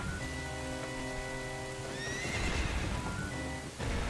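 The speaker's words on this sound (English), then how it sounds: "look at the rain effects and everything" Rain falling steadily in the opening scene of a Legend of Zelda game, mixed with a horse neighing and hooves clip-clopping, over sustained musical tones; no one speaks.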